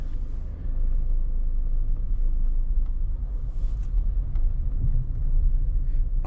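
A car's engine rumbles low and steady while driving through Los Angeles, a continuous close drone with faint road noise and occasional small knocks, with no speech over it.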